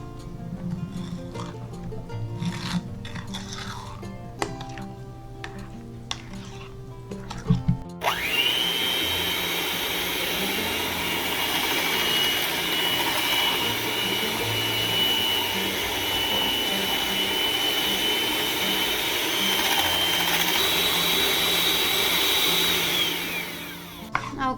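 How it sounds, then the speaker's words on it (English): A hand mixer whirs steadily through no-bake fruit cake batter in a home kitchen, a loud continuous motor drone held for about sixteen seconds after a few seconds of quieter clinking and handling. "and then I will use my hand mixer"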